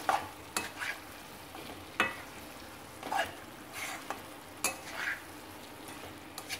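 Chicken pepper fry with chopped coriander leaves being stirred in a pan, a soft steady sizzle under repeated scraping strokes of a spoon against the metal, close and fairly quiet, with no talking.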